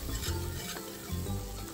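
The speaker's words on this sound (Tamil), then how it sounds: "இஞ்சி பூண்டு போட்டு அதையும் கொஞ்சம் நல்லா பச்சை வாடை போகிற அளவுக்கு நல்லா வதக்கிக்கோங்க" Ginger garlic paste sizzles and is stirred with masala in a pan for Saidapet-style vadacurry, with a steady, close frying crackle and light scraping.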